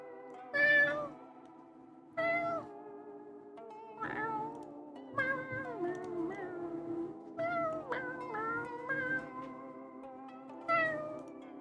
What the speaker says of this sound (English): That's what my cat sounds like.